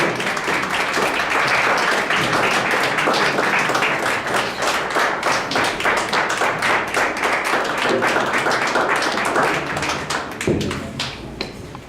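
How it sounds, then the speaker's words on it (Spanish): A church congregation stands and claps in a steady, rhythmic beat, loud and dense, continuing for several seconds before thinning toward the end. "Ponte de pie, dale palmas al que vive."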